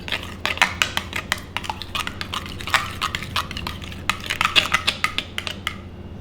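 A spoon stirs a tempeh batter mixture with salt, powdered broth and cooking oil in a bowl, making a steady run of quick, close scraping clinks against the bowl, each stroke sharp and distinct.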